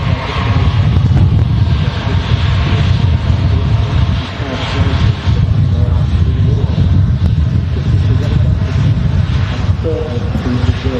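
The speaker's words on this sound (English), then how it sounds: "that's the A320 EasyJet service from Jersey" An EasyJet Airbus A320 on final approach into Manchester Airport, a continuous loud roar of jet engines heavy with wind buffeting on the microphone, holding steady throughout.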